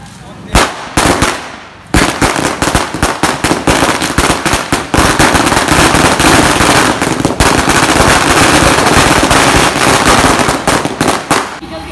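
Firecrackers crackle in rapid, dense bursts at a Diwali village celebration, loud and close, a long chain of sharp pops with a few single bangs at the start, and voices underneath.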